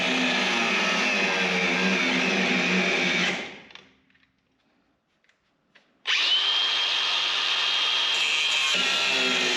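A power tool cuts a part off a 1973 Cuda with a loud, harsh, steady whine. It stops for a couple of seconds of near silence, then starts again at full force.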